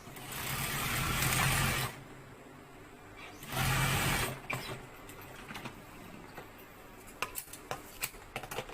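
A sewing machine stitches a folded hem in two loud, steady whirring runs of a couple of seconds each, separated by a pause, then light handling clicks and taps of fabric and tools.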